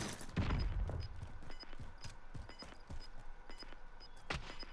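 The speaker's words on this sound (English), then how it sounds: "Oh shit, somebody's shooting." Gunfire in the Call of Duty Warzone map Rebirth Island, rapid bursts of shots crackling in the distance over steady game ambience, with a few louder nearby cracks.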